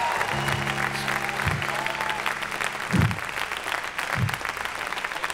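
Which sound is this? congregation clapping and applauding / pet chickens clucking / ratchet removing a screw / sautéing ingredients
congregation clapping and applauding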